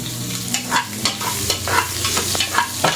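Chopped onions and garlic sizzle and fry in a hot pan, with scraping stir strokes at steady intervals over a continuous crackle, fairly close and loud, with no voices.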